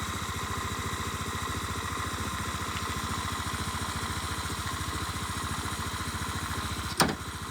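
A motorbike engine idles in a steady, pulsing chug on a trip in Vietnam, close and even for several seconds, then ends with a sudden sharp clunk near the end, with no talking.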